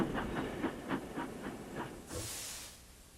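A cartoon steam engine, Thomas, chuffs in with rhythmic hissing puffs, then releases a loud burst of steam near the end, with no voices.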